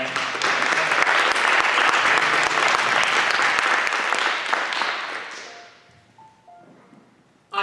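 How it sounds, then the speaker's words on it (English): Audience applause at a Christmas concert, a loud dense burst of clapping that holds steady for about five seconds, then fades out into quiet room sound with faint tones. "How about a round of applause, Dan?"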